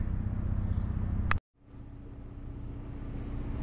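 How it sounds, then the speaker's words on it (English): Crickets chirp in a faint, steady chorus on a quiet evening at the depot in Troy, New Hampshire, briefly cut off by a short gap before the trill resumes. "listen, still hear the crickets."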